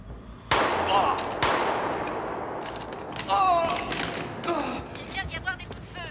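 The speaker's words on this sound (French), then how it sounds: "Il vient d'y avoir des coups de feu." Gunshots ring out in a French-dubbed action film about American cops against the Russian mafia: several loud, sharp bangs with one opening the scene and another burst a few seconds later, mixed with shouting voices and clatter.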